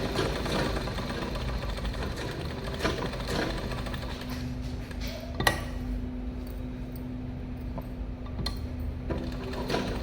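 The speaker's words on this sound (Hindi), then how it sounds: "अब हम इस पे चारों तरफ हम सिलाई लगाएंगे।" A sewing machine runs steadily while stitching a buckram-backed neck onto a suit, a continuous fast mechanical whirr with a faint hum and occasional clicks, close and without speech.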